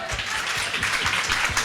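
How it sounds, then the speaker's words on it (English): An audience applauds for a moderator on stage at a panel event, a steady wash of many hands clapping with no voices over it. "one more big round of applause for Ashley"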